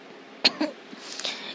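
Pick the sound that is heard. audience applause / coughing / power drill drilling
coughing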